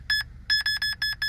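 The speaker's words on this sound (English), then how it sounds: "now it's beeping" An EMF detector beeps electronically in short, sharp pulses: one pair of quick beeps, then four evenly spaced longer tones, loud and close over a quiet low hum.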